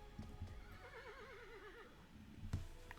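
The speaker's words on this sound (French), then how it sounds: "Un cheval." A horse neighing in the video game Yuppie Psycho, one long wavering whinny near the middle, framed by soft clip-clop thuds and a sharp knock near the end, fairly quiet.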